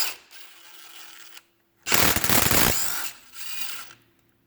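A 1/2 inch ratchet loosening brake caliper bolts on a Polaris Xplorer ATV front wheel, quick clicking ratchet strokes in several close bursts, the middle one loudest, separated by short pauses.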